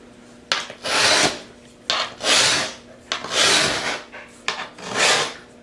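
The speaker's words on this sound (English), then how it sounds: "I'm using this scoring knife to get in between where the grout goes." A scoring knife scrapes excess mortar from between floor tiles in an entryway, rough rasping strokes in a steady rhythm of about eight pulls, each short burst separated by brief pauses, close and clear with no talk.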